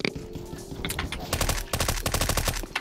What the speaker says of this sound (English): Watch me shoot all around you.